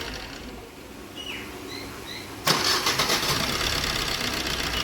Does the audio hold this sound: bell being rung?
no